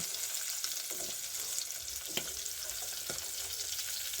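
Onions fry in a pan for a beef stew, a soft, continuous sizzle with occasional light stirring taps, fairly quiet and free of speech.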